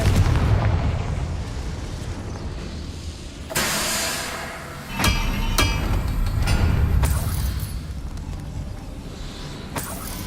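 Confringo explosion spells burst in a fantasy video game, several loud booming blasts with sharp cracks over a rumbling, roaring backdrop of game effects.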